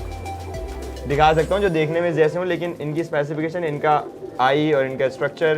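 Pigeons of show breeds coo in low, throaty rolling bursts in a Karachi pigeon collection, repeating steadily under someone speaking throughout.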